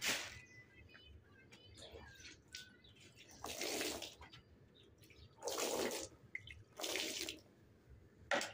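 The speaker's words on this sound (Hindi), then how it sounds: "अब इस सरफ के ऊपर मैं मग्गे से पानी डाल रही हूँ" Water poured from a mug onto detergent spread over a carpet, heard as a few separate splashing pours in bursts, close and fairly soft, with quiet pauses in between.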